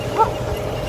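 A dog in the Saudi Arabian desert gives a single short, sharp bark or yip at a moderate distance, standing out briefly above steady background noise.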